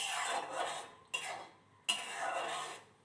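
A spoon scraping and clinking in a pot as coconut kuzhambu curry is stirred, with a few distinct scraping strokes close by and no voice over them.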